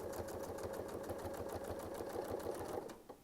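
Close, quiet sewing machine hum with a rapid regular needle clatter as a quilt circle is stitched around a Westalee template, running steadily before slowing to a stop.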